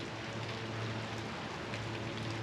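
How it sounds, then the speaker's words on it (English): Steady rain falls outdoors during a wet day of milling lumber from a junk log, making a dense, even hiss with a low hum beneath it and no voices. "can you hear the rain?"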